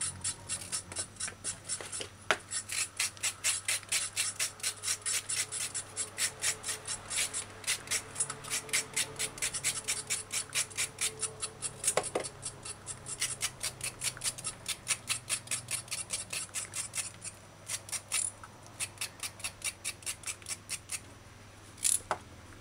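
A knife chops through vegetables on a cutting board while the tips and heads are trimmed off, giving a fast, steady run of crisp close cuts that continues throughout with only brief pauses.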